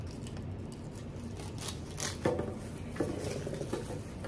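Several light metallic clicks and snips of kitchen scissors against a soft background hiss, with a few sharper handling clinks near the end.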